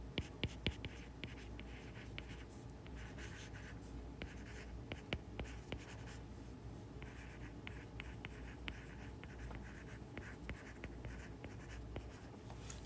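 Pen writing notes during a physics lecture on Newton's laws: continuous close scratching strokes with frequent sharp taps, quiet and steady throughout, with no talking.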